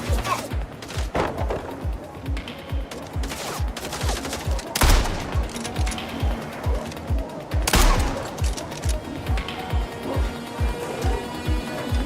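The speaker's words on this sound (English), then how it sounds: "Got a new gun, a shotgun" Shots ring out in regular succession from a shotgun in the video game Mindseye, loud and close, with two heavier booming blasts standing out amid steady background gunfire.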